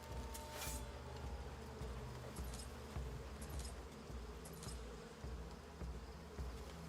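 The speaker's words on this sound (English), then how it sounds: "Come on, bees." Bees buzz in the video game Crimson Desert as a steady, faint drone over a low background hum, with no talking.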